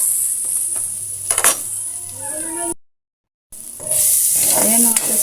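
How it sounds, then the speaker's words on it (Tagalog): Vegetables sizzle in a hot pan while cooking ginisang repolyo, with a constant close frying hiss, utensil clinks and stirring scrapes, a short break of silence, then louder sizzling and stirring. "I-fry pa natin mga sis hanggang sa medyo mag-brown siya para mas malasa."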